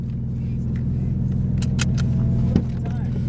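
A stock Nissan 370Z runs at Willow Springs Raceway while its oil temperature is high, producing a steady, loud, low engine rumble with a brief bump near the end, as a person talks over it.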